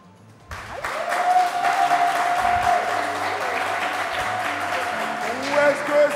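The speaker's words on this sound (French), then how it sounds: "le public va décider, est-ce que c'est l'équipe, c'est la danseuse Sylvia ou c'est l'imitatrice Fatim qui a la première étoile par applaudissement?" A studio audience on a French-language game show bursts into loud applause to vote for a team, with cheering and a host's voice audible over the sustained clapping.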